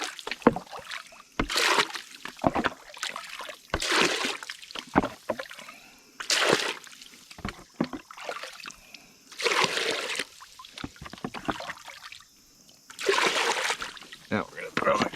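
Water splashes and sloshes in bursts as a gold pan is filled at a drop-riffle sluice, with repeated scooping splashes between quieter trickling gaps.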